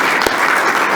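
An audience claps for the evening's speakers at a storytelling event, a dense, even round of applause that fills the short span without a break.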